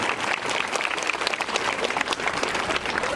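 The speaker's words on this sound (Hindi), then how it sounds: "जोरदार ताली से स्वागत किया जाए सबके लिए।" An audience at a student award ceremony gives sustained, dense applause, loud and even throughout with no pauses.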